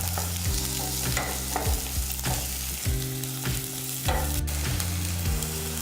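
Onions frying in a pan for a brinjal gravy, with a steady close sizzle and repeated scraping stirs of a spoon against the pan throughout.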